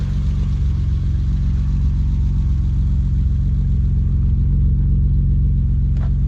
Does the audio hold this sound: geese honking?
no